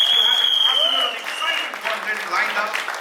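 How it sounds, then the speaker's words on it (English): An audience applauds at a trailer launch event for the web series Ek Badnaam Aashram, a sustained round of clapping with some voices mixed in. "by giving a big round of applause to the incredible team of Amazon MX Player"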